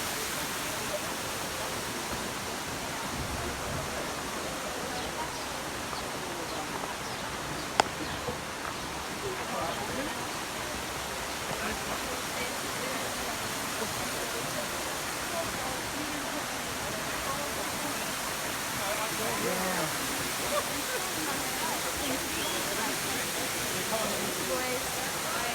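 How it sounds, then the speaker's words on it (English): Waterfalls at Ein Gedi near Masada roar as a constant, dense rush of falling water that fills the whole stretch at steady loudness, with voices faintly mixed in. "Waterfalls at El Gadi."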